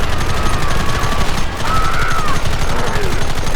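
Rapid gunfire in a Red Dead Redemption shootout, dense overlapping shots rattling continuously and loudly with a brief dip midway, battle noise throughout.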